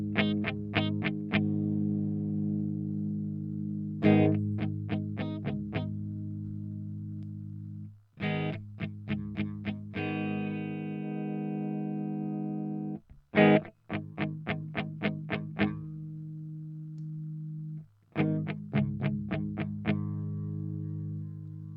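Electric guitar through an amp with the mid control turned up high, playing bursts of rapid picked notes and chords between held ringing tones, moderately loud and without any voices.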